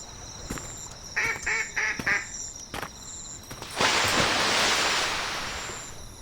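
A duck by a lake in the Dolomites gives a short run of four or five quick, nasal quacks, close and clear, followed by a broad rushing hiss from the surroundings.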